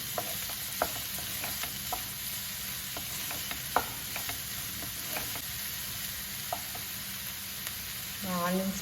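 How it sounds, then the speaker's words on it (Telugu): Onions frying in a pan for a sweet corn sandwich give a steady, close sizzle throughout, punctuated by light spatula taps and stirring clicks, with a brief voice near the end. "బాగా వేయించుకోవాలి"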